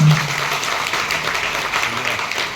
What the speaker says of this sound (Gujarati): સર માટે એકવાર જોરદાર તાળી